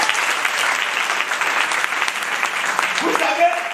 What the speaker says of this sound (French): Est-ce que quelqu'un peut acclamer le Seigneur?